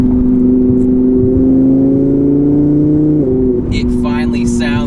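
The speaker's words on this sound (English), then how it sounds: "This is the best exhaust I have ever heard in my life." An Audi R8 V10 Plus fitted with a Capristo exhaust revs loudly and close, a deep rising engine drone that climbs and then drops off, followed by a person talking over the settling engine.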